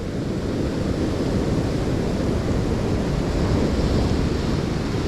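Storm-driven surf on the shore after Storm Amy, a steady, loud wash of breaking waves with wind rumbling across the microphone and no talking.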